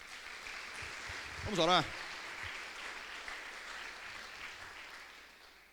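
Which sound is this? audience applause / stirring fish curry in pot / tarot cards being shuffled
audience applause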